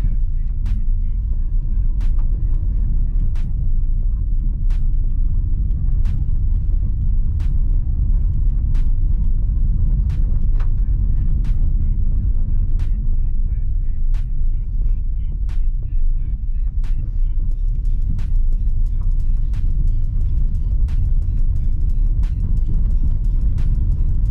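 A 2021 Dacia Duster facelift with the 1.33 TCe 150 petrol engine and EDC dual-clutch gearbox accelerates, its steady low engine rumble filling the cabin, with a regular series of faint ticks throughout.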